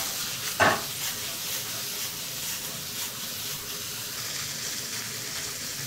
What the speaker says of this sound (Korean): 자, 고기는 다 익었지만 여기서 좀 더 익혀줄 거예요.